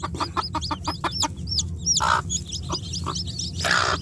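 Native chickens, hens with newly hatched chicks, cluck and peep close by in a quick run of sharp calls, with a couple of louder squawks breaking through.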